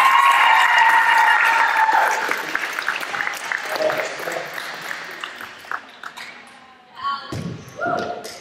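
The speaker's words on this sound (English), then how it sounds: "So let's give a round of applause to Allie Schuster" Applause for a player at a BCAA basketball tournament semifinal, a full round of clapping from a crowd in a gym that fades out after a couple of seconds, followed by scattered thuds, squeaks and faint voices.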